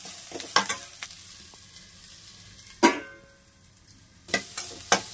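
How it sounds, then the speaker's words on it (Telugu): Sliced onions with salt sit in a covered pan, a soft background sizzle broken by a few sharp clatters and knocks, likely the lid or spoon against the pan, with no voices. "సాల్ట్ వేసుకున్న తర్వాత 1 నిమిషం మూత పెట్టి ఉల్లిపాయలు కొద్దిగా ఫ్రై చేయనిద్దాం."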